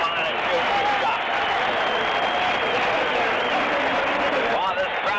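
A basketball arena crowd at a 1979 NBA game applauds and cheers in a sustained, dense wash of clapping heard from within the stands, steady throughout with no clear voice on top.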